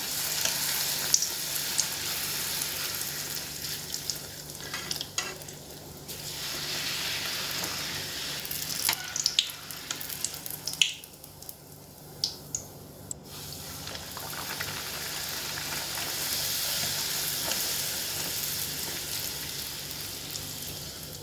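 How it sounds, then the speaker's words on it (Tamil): Bhatura dough fries in hot oil, a loud continuous sizzle with bursts of crackling and scattered sharp spatter pops, swelling and easing over about twenty seconds with no talking. "இந்த மாதிரி எண்ணெய் ஊற்றி காய வச்சுட்டு பொரிய போட்டுக்கணும்"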